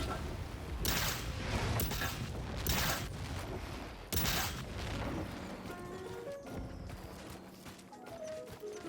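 Rapid gunfire bursts aimed at a T-Rex in the video game Second Extinction, loud and dense for about five seconds with heavy booming impacts, then thinning into scattered shots and electronic game tones.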